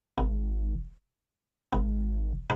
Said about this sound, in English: I just changed the bass part and I played it on the Dominion